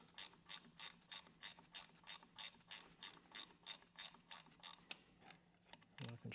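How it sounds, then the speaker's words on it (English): Ratchet wrench working on the injection pump of a 4020 tractor: a quick, even run of about fifteen close clicking strokes, then a pause and a final short burst of ratcheting. "Got a fancy little ratchet wrench, but it might get stuck back there"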